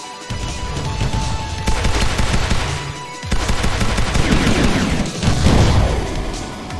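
Anti-air gunfire from a cutter in the Sky Rogue flight combat game, a dense, sustained rattle of rapid shots with booming bursts, loud and continuous throughout.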